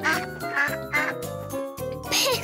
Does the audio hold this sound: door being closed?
no